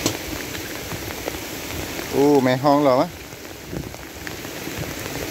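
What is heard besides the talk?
rain falling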